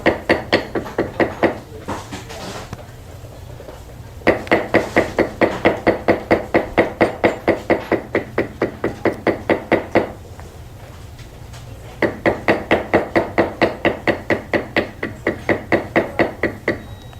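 Steady rhythmic tapping of a mallet on a leather beveling tool, loud and close, in long runs of evenly spaced strikes separated by short pauses.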